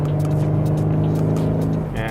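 A 2018 Aston Martin DB11 V8 in Sport Plus mode gives a deep, continuous exhaust burble with a steady engine drone, loud and close, while people talk over it.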